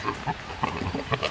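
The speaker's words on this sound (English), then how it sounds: "this pig, it's just a breeding frenzy in here right now" A pig in a breeding frenzy grunts and snorts in quick irregular bursts, close and fairly faint, with no talk over it.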